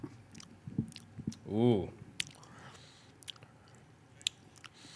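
A man chews a big spoonful of chili at a chili cook-off, with close, soft, wet mouth sounds and a short hummed vocal sound of approval partway through.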